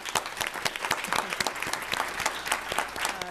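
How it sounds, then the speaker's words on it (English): An audience at an inclusion and diversity award luncheon claps for a staff member, individual claps fairly distinct and moderately close, building into steady applause with no talk over it. "So could you help me applaud her?"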